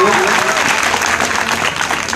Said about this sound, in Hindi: एक बार ज़ोरदार तालियां बजाकर जो है तो हौसला अफजाई कीजिए